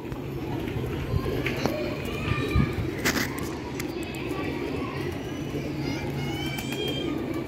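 Soft pigeon coos amid bustling outdoor activity, with children's voices and movement nearby throughout.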